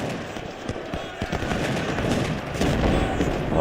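Battlefield gunfire in Ultimate General: Civil War, a steady wash of distant musketry and cannon reports rolling together, growing slightly louder toward the end, with no talking heard.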